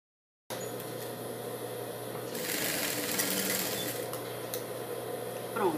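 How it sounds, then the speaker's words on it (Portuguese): A sewing machine runs steadily, stitching around the edge of a small dog dress, a close, even mechanical whir that speeds up in the middle and carries on without talk. "Vou costurar até toda a volta,"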